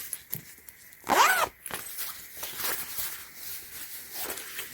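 A zipper on a small travel pouch is pulled open in one quick, close rasp, followed by faint handling and rustling.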